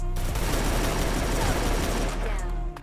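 Rapid, continuous automatic gunfire from a video game shootout fires as a loud, dense burst lasting nearly three seconds before cutting off abruptly.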